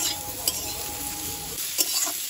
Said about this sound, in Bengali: এইবারে বেগুনটাকে ভেজে নিচ্ছি।